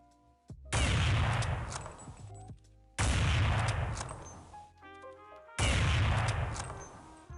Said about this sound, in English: The AVP has 3 firing animations in Counter-Strike, each having a slightly different bolt pull angle.